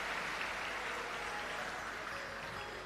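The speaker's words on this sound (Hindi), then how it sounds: "एक बार सभी यजमान परिवार के लिए जोरदार ताली बजाकर स्वागत वंदन अभिनंदन।" A large audience at a Shiv Mahapuran katha in Nashik applauds to welcome the host families, a dense, continuous wash of clapping that stays even and fairly distant throughout, with no gaps.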